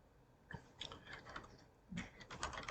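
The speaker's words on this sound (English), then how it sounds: "I just start typing below the thing" Someone types on a computer keyboard in two short bursts of soft, irregular key clicks, close but quiet, with a pause in between.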